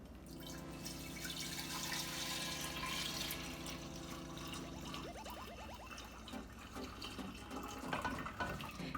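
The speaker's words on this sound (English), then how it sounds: "you take it and pour it into your gallon container." Homemade laundry detergent is poured into a gallon container, making a steady liquid stream with a rising fill pitch, then gurgling splashes and drips as the pour ends.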